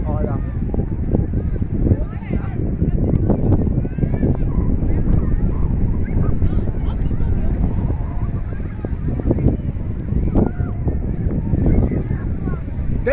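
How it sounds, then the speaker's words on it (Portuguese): Strong wind on an early-morning beach at Itamaracá, a loud continuous buffeting rush over the microphone, with a person talking throughout. "Tá ventando muito, gente."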